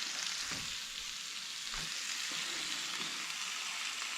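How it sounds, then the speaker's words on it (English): Spices sizzling in a pan for chicken rogan josh curry, a steady close frying hiss with faint stirring clinks, alone without talk. "So that's starting to sizzle now."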